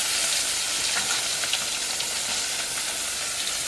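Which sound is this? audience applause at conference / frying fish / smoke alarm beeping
frying fish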